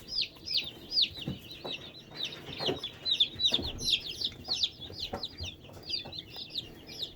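Newly arrived meat-breed chicks, fast-growing roaster birds, chirping and clucking in a busy nearby chorus of repeated high peeps, with occasional soft thumps and rustles underneath.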